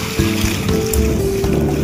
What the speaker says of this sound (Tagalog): Ayan, yung alon.